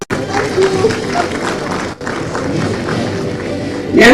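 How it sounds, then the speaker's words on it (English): Audience applause at an annual conference afternoon session, a dense steady patter of many hands clapping across the room, sustained without pause and briefly swelling louder at the end. "A round of applause"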